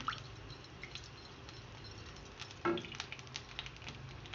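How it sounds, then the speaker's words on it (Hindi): Garlic ginger paste frying in hot oil in a pan, a soft close sizzle with occasional stirring scrapes and one sharper clatter partway through, quiet and without speech. "अब मैं ऑयल गर्म होने के बाद ये लहसुन अदरक का पेस्ट इसमें डाल रही हूँ।"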